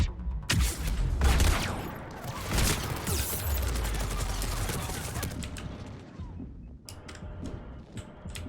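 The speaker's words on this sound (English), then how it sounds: "Oh god, it's a turret." Automated turret firing in Mass Effect 3: loud, dense bursts of gunfire crackling through the first five seconds, then thinning to scattered sharp shots with gaps between them.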